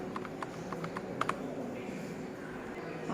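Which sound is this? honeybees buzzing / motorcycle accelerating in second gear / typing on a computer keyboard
typing on a computer keyboard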